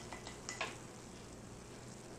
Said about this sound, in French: Et je vais mélanger tout ça vite fait.